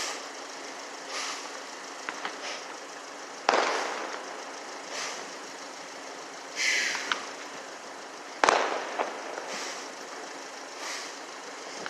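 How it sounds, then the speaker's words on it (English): Small mortar fireworks burst outdoors at a distance, two sharp cracks a few seconds apart over steady background noise, with fainter pops and crackles scattered between. "Little mortars."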